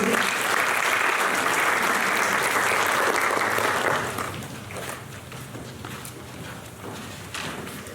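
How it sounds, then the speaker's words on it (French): A formal audience at an administrative speech event welcomes a speaker with loud, dense applause for about four seconds, then the clapping thins and fades to scattered, quieter claps in the hall. "je vous prie de recevoir avec une salve d'applaudissements Monsieur Samuel Rakoutoudjen Irmadi Prato."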